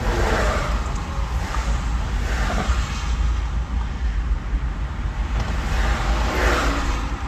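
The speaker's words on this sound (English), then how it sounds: "Traffic, man, traffic." Road traffic on a hot day in the United States rumbles past continuously, with loud, broad engine and tyre noise swelling as cars drive by.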